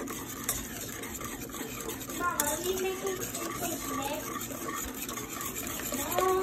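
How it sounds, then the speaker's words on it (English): Pancake batter being whisked in a bowl makes a continuous close scraping and swishing with faint sloshing, running steadily throughout. "Whisk it all up."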